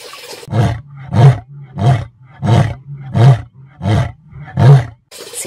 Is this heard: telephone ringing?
no